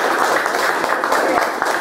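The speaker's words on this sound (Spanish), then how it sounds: "Vamos a darnos un aplauso." Brief, dense applause from participants at a university teaching diploma session, steady and close with no pause.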